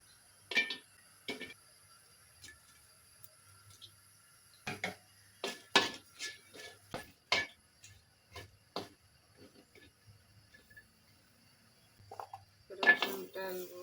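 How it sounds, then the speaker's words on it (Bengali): Chillies dry-roasting in a pan for a jackfruit-seed bhorta, heard as scattered metallic clinks and taps of a utensil against the pan, some close together and some spaced apart, with quiet gaps between. "আমি এবার মরিচগুলো টেলে নিই।"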